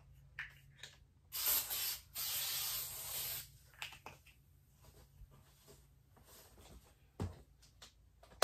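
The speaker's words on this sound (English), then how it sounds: "Let me spray this one down." A spray bottle misting a clothing item from a haul, a few sharp hissing bursts up close, with quieter rustling and handling noises between them.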